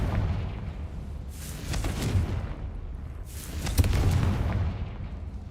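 Confringo blasting spell in Hogwarts Legacy, two heavy booming blasts with long rumbling roars a couple of seconds apart, loud and close over low background noise.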